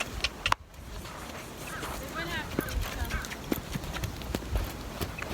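A horse canters on sand while being lunged, its muffled hoofbeats thudding in a quick repeating rhythm at moderate distance, with a faint human voice now and then.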